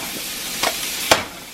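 An egg sizzles in a cast iron pan after being flipped, a soft constant hiss broken by two quick scraping clatters of the spatula.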